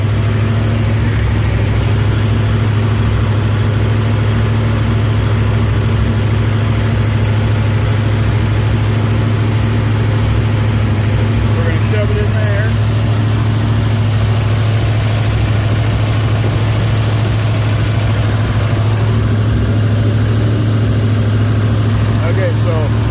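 A Chevrolet Camaro with a failing alternator idles steadily close by, a loud constant low rumble that runs without change throughout, with faint clinks and handling noises in the background.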